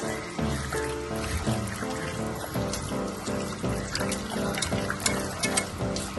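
Oil poured from a ladle onto raw chicken pieces for a fry, a soft continuous liquid pour and trickle with slight dribbling, close and without speech.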